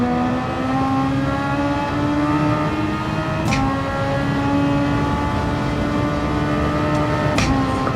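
Race car engine in Gran Turismo 7 at the Nürburgring, a loud, sustained high-pitched drone holding steady, with brief sharp shifts or bumps around midway and near the end, no talk.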